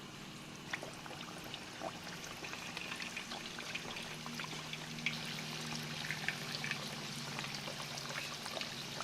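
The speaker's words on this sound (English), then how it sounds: "it should only take us about 4 minutes max to fry our quesadillas" Quesadillas frying in hot oil in a clay pot, a quiet, steady bubbling crackle with fine scattered pops running evenly throughout, no voices.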